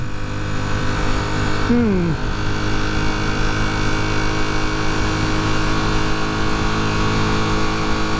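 A rebuilt Honda CB250 Super Dream motorcycle engine runs steadily with a brief pitch swoop early on, hesitating and holding back at high RPM; a voice talks over the continuous engine drone.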